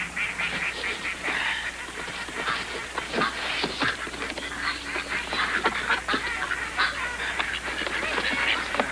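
Ducks being let out of an enclosure quack and honk repeatedly in a busy overlapping chorus, fairly close and continuous throughout, with no talking.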